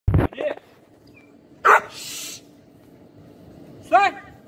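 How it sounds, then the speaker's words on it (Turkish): Dog barks in a yard where an American Staffordshire terrier and Anatolian shepherd dogs are kept: a few short, sharp barks spaced out over several seconds, with a person talking nearby. "Bakalım havlayacak mı bu kadar."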